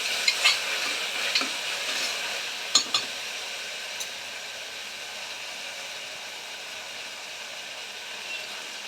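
Ginger garlic paste sautés in a pan for mutton white gravy, giving a steady, even frying hiss with a few soft stirring clinks early on.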